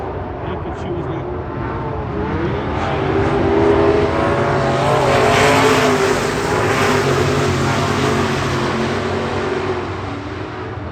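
Late model race cars roar around a dirt speedway turn, a loud engine drone that swells and fades as the field passes, with an announcer talking over it.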